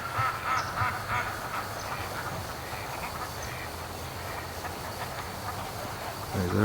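Ducks back from the lake quack faintly in a creek, a few short calls at the start against a steady outdoor noise bed that fills the whole stretch.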